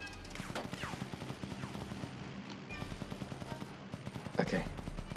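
Rapid video game gunfire from Indiana Jones and the Staff of Kings, a steady stream of sharp shots and bursts under an ongoing game soundtrack, with one heavier blast near the end.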